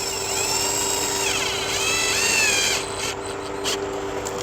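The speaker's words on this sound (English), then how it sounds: "Come over here to this side and we do the same thing, just get our screws started." Whining power drill driving screws into a car bumper during reinstallation, a steady close motor drone with rising and falling pitch as the screw seats, then stopping near the end.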